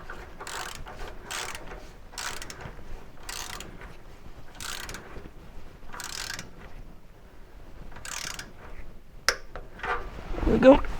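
Ratchet tightening oil pan bolts on a C3 Corvette, with a series of short, evenly spaced clicking bursts heard close by at moderate volume, followed by a few sharper clunks at the end.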